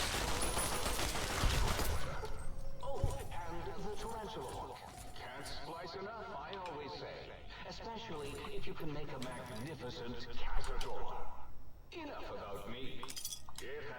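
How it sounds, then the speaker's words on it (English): Gunfire in the video game Fallout: Tale of Two Wastelands as the player shoots up a school: bursts of shots, mixed with clinks and game sounds, run through the clip with a louder flurry near the start and talk throughout. "I'm just shooting up a school."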